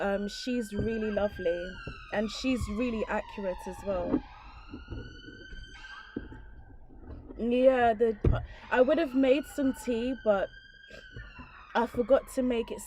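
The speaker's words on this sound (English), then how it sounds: "Sorry about the siren, by the way." An emergency vehicle siren wails outside during an indoor tarot live stream, rising and falling in long sweeping tones that come and go, heard under someone talking close by.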